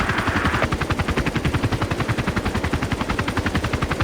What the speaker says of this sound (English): Hostile chopper identified.